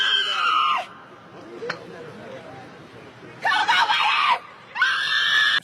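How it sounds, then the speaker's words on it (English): A woman screeches in loud, shrill bursts, once at the start and twice more later, with a rough, busy background of outdoor noise between the cries. "I don't think it's appropriate to have her screeching though"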